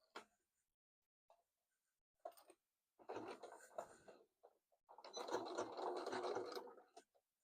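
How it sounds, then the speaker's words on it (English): A sewing machine runs a couple of locking stitches on an easter egg hunt apron. It gives a few brief whirs and clicks, then a steadier, faint mechanical stitching hum, close by and heard alone. "I'm just going to do a couple of stitches to lock it in."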